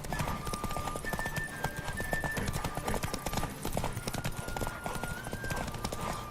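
A galloping horse in The Witcher 3 pounds out a fast, steady hoofbeat rhythm, close and prominent, with occasional whinnying and faint tonal game sounds underneath.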